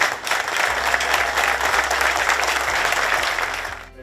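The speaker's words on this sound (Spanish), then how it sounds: "Un aplauso a César Hernández Arce." A crowd at a police district headquarters reinauguration ceremony gives a loud, sustained round of applause for César Hernández Arce, with dense clapping that fades out at the end.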